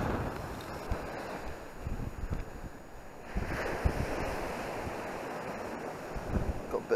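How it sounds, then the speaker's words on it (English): Wind gusts buffet the microphone on a beach at Ingoldmells during metal detecting, a rough, low rumbling roar that swells and eases in uneven surges, with faint surf underneath and no talking. "Sorry if it's a bit windy"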